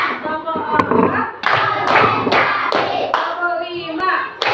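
A classroom of children claps in rhythmic bursts, sharp hand claps grouped in sets with short pauses, close and loud, with kids' voices chattering between the claps.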